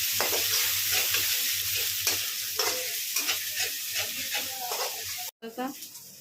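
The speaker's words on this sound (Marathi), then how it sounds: "आपण त्यात टाकूया ताडा करायला कढीपत्ता, थोडीशी कोथिंबीर टाकूया." Curry leaves and fresh coriander hit hot oil in a tadka for a vada pav potato filling, sizzling and spitting steadily while being stirred, close up, as someone talks over the frying.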